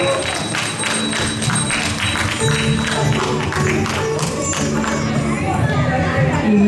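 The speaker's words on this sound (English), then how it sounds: "Let's have a big round of applause for a cute pilot, ma'am" Crowd applause at a Durga Puja children's costume parade, clapping and murmuring voices over a loud busy background with a steady hum, continuous throughout.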